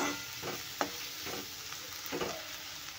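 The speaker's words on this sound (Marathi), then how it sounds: "टोमॅटो पण आपल्याला तेलामध्ये छान नरम शिजवून घ्यायचे आहे" Tomatoes softening in hot oil for a dried prawn chutney, a soft continuous sizzle with a few quiet spoon strokes scraping the pan at irregular intervals, fairly faint and close, with no voices.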